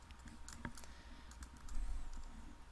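Quick tapping on a computer keyboard while entering a spreadsheet formula, a short run of light clicks near the microphone with no voices.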